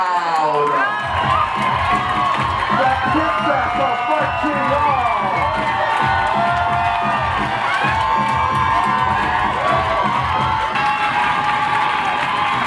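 A crowd of adults standing around cheering, loud continuous shouts and whoops with high-pitched voices mixed in, sustained for the whole stretch without letup.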